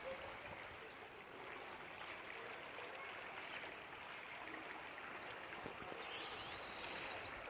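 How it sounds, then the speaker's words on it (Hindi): Floodwater from rain flows steadily through a residential street, a continuous faint rushing and trickling wash with no voices over it. "पानी का फ्लो देख रहे हैं कितना है।"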